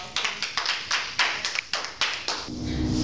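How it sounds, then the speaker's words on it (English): Scattered clapping from a small audience, uneven individual claps rather than a dense roar, close by and lasting a few seconds. "So if you would give a round of applause"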